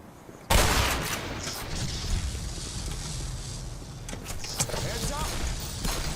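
Gunfire in the shooter game Black Mesa, a dense rolling burst of rapid shots that starts abruptly and continues without pause under a voice speaking French.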